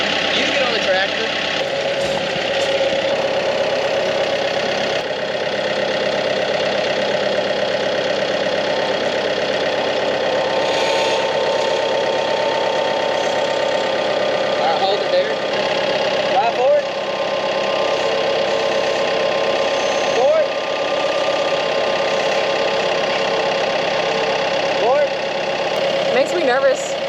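A tractor engine idles throughout, a steady mid-pitched rumble with faint knocking. Short clanks and shuffles break in now and then.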